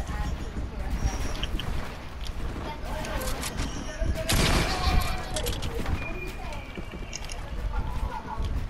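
Fortnite gunfire in a 1v1 creative match, with rapid bursts of shots and dense crackling game noise running throughout, while players talk over the action.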